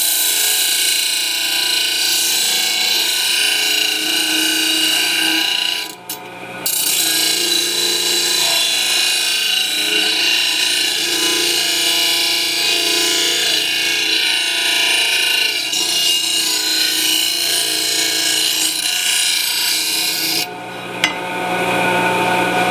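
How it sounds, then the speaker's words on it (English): A power tool grinds down and bevels the end of a metal tube, a steady loud whirring grind running almost continuously with two brief pauses. "So we need to grind that down."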